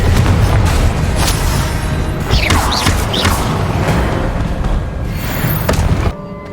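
A Confringo explosive spell blast bursts out in Hogwarts Legacy, a loud booming impact set within a dense, continuous wash of game sound and effects that ends abruptly near the close.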